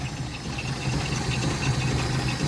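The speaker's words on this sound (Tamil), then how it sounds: "இன்ஜின் ஓடுறதே அவ்வளோ மைண்டாக ஓடுது" A Maruti 800 petrol engine idles steadily after its carburettor has been cleaned, a continuous low, even rumble with a faint rhythmic pulse, close up and uninterrupted by talk.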